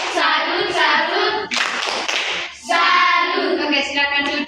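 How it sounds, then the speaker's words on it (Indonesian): A classroom of children performs the 'tepuk salut' clapping chant for a student group, chanting together with rhythmic hand claps in a loud, close group burst, with a break of noisier clapping in the middle. "Oke, tepuk salut dulu untuk kelompok 2"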